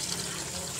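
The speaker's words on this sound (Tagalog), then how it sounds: "dalawa na palang tasang tubig mga idol para may sabaw tayo" Water pours steadily into a cooking pot for a tulingan fish soup, a continuous broad gushing rush at low level with no talking.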